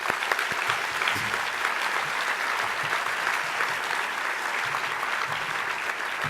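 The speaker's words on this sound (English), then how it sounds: "giving a very big round of applause to David for his exceptional leadership of C40" Audience applause for the outgoing C40 chair at a handover ceremony, a dense, sustained wash of clapping from a large crowd that holds steady and loud for several seconds without voices.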